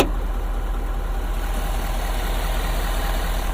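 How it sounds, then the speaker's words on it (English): A 2017 Ford F-250 Super Duty 4x4 pickup truck engine idles in a steady, continuous low rumble that holds even and unchanging throughout, with no voices. "the vehicle is still running"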